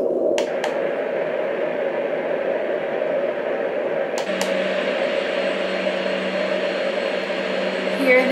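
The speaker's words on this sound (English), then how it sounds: "Here are the 2 fan sounds." Two fan settings from a Sztrokia white noise sound machine play one after another. Each is a steady broadband whir, with a button click and a shift to a deeper, humming tone partway through.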